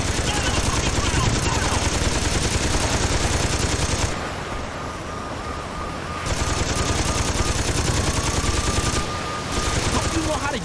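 A mounted gun fires long, loud continuous bursts in the video game Saints Row 2, broken by two short pauses, with engine and chase noise underneath.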